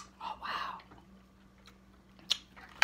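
Chewing salmon and vegetables during a mukbang meal, close and quiet with soft moist mouth sounds and a couple of sharp clicks toward the end.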